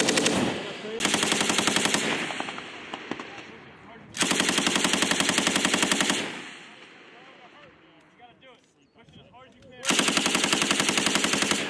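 A crew-served machine gun on a live-fire range fires three long rapid bursts, loud and close, separated by pauses with shouted voices and echoing reports.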